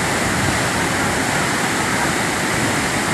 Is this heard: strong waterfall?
yes